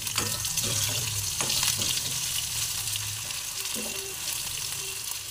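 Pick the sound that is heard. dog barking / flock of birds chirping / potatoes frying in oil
potatoes frying in oil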